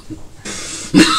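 A single harsh, loud cough bursts out near the end, after a stretch of faint rustling and a hissy breathy noise.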